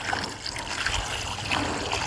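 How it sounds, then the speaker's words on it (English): Water poured over rocks at the top of a vertical garden watering system, a steady close trickling and splashing that runs continuously without a break. "and this is where I'm putting my water"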